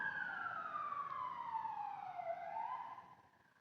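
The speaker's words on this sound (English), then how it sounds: "Let that siren go by for a minute." An emergency siren wails in a long falling-then-rising tone, moderately distant, fading away as the vehicle passes.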